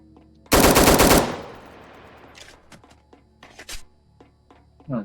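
Video game gunfire rips out in one loud burst of rapid automatic shots lasting under a second, followed by a short fading tail and scattered quieter clicks and thumps.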